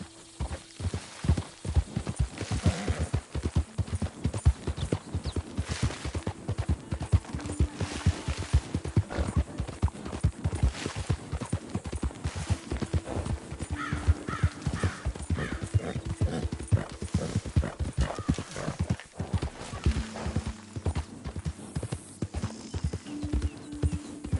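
A horse trots with dense, rapid clip-clopping hoofbeats that stay loud and close throughout, broken now and then by short neighs.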